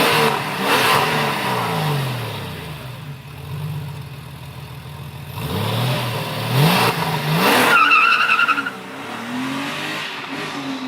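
A Ford Mondeo car drives by with its engine revving and accelerating, loud and close, rising and falling over several passes with a brief tyre squeal, heard on its own with no talk.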